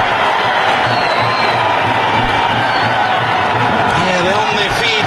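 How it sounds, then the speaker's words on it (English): A stadium crowd at an Afghanistan versus South Africa one-day cricket international cheers, whoops and applauds loudly and continuously, with a commentator talking over the roar. "they're on their feet. They're applauding their team."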